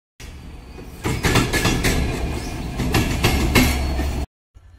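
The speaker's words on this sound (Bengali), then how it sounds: "Panchagarh express Parbatipur railway junction থেকে একদম সঠিক সময় ছেড়ে যাচ্ছে" Panchagarh Express pulling out of Parbatipur railway junction, a loud, steady rumble with rhythmic wheel clatter on the rails that holds for several seconds, then cuts off abruptly.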